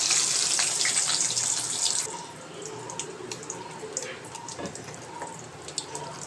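Whole garlic cloves dropped into hot oil with already popped mustard seeds give a steady, loud sizzling hiss that fades a little midway and carries faint crackles.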